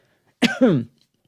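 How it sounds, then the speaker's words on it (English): A single short, rough cough breaks the quiet, close and fairly loud, with a brief voiced tail and silence before and after. "Excuse the coughing here."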